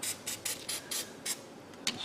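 Short hissing bursts of Fluid Film aerosol spray onto a car's power steering return line clamp repeat in a quick, uneven rhythm, close and moderately loud, with no voices.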